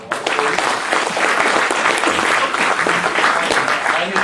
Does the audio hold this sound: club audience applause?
yes